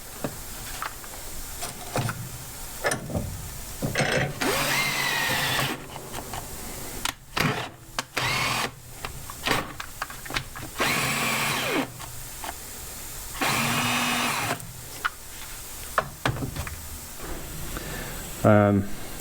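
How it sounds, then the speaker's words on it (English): A flex hone spins inside a Dodge M37 Power Wagon brake cylinder, producing whirring, buzzing bursts from a power drill that start and stop repeatedly with brief pauses, close by, with some faint voice in the background. "This flex hone, dingleberry hone, sure does a lot better job"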